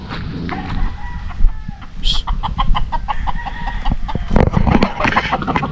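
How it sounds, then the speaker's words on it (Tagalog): Gamefowl at a Filipino game farm cluck loudly and close by, with a rooster crowing among them over a constant din of the flock. "Yung mga manok dito nahuli na ni Choy."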